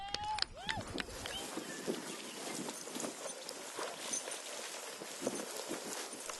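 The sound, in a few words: horses' hooves at the finish of an endurance ride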